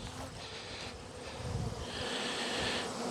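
Honey bees buzz steadily around a hive built under a pallet, a dense continuous drone close by with a slight swell midway, no talk.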